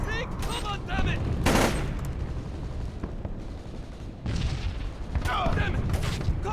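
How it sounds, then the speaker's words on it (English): Gunfire in the stealth game Splinter Cell Chaos Theory, bursts of automatic shots and sharp cracks erupting in clusters with loud blasts, mixed with shouting voices of soldiers amid the firefight. "We've got incoming shots!"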